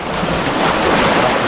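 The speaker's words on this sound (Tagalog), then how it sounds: "Lakas ng alon." Strong ocean surf crashing near a beach cottage, a loud continuous roar of breaking waves mixed with wind buffeting the microphone.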